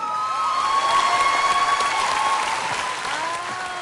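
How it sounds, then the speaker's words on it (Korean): Studio audience applause on a Korean music variety show, a dense burst of clapping with some cheering, loud and sustained over a few seconds. "박수 보내세요"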